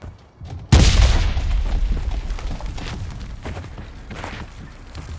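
Grenade explosion in the battle royale game Cuisine Royale, a single loud booming blast that follows a short quiet moment and fades into a long rumbling tail, with no talking during it.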